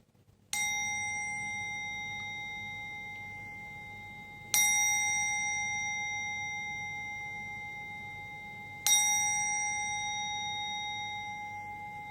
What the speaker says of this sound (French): je vais, avec mon gong, purifier les énergies également